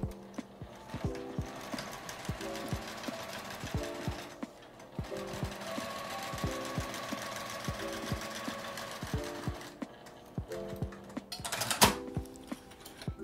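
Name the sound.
sewing machine stitching a fabric shoulder strap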